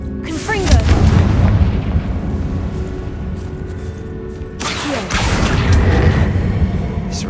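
The Confringo explosion spell in Hogwarts Legacy goes off twice, each a heavy booming blast with a long rumbling tail and swooshing effects, loud and close, with a short spoken line in the game.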